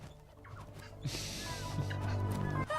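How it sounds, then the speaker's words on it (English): Turkey-like gobbling and clucking rise over a steady droning background, with a burst of noise partway through. "Hey, you stupid birds!"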